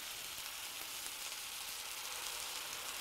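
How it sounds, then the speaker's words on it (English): Red flannel corned beef hash sizzles in a pan as beef stock is added, giving a steady, even hiss at moderate volume without talk. "Now at this time, I'm gonna add a little bit of liquid."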